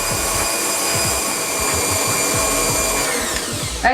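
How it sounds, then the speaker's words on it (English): A stand mixer whisks macaron meringue in a steady, loud, continuous motorised whir that holds an even drone throughout, with a slight shift near the end. "I'm just going to leave that whisking until it reaches room temperature"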